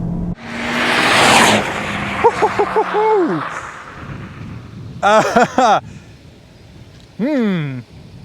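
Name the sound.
front-wheel drive Honda Civic Type R lapping a wet track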